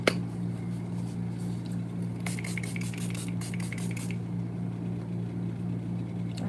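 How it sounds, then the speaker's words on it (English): Milani Make It Last Original Setting Spray misted onto a face, a short burst of several quick, hissing pumps at close range over a steady low electrical hum, with no talking. "we're going to go in with the Milani Make It Last Original Setting Spray"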